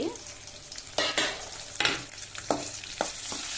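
Curry leaves, garlic, red chillies, chana dal and urad dal roasting in a pan, crackling sizzle with several sharp stirring scrapes, close and loud, no talking.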